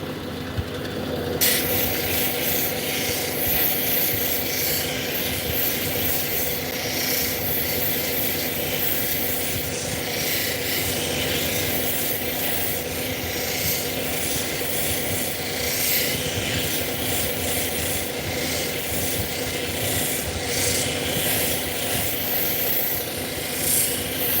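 Fire obsidian being polished on a 1200 grit wheel in a live workshop, a steady whirring grind with continuous rubbing friction and a constant motor drone throughout.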